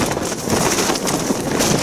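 Strong wind on Dartmoor batters a wild camp in cold, wet weather, a loud and constant roar buffeting close to the microphone with no let-up.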